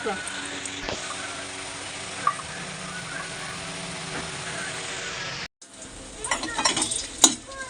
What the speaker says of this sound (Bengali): বন্ধুরা পেঁয়াজি ভেজে নিয়েছি।